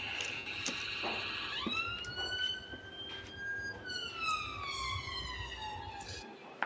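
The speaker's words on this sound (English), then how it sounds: "What is the sound of a Bratislavan ambulance?" An ambulance siren wails in rising and falling tones, moderately loud, over a background murmur of voices in a casino poker room.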